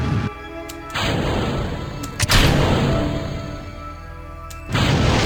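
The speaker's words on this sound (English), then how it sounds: "Whoa, I blew the tank." Rocket staging and a fuel tank exploding in Kerbal Space Program, heard as a loud sustained rumbling roar broken by sharp bursts and crashes near the start, middle and end.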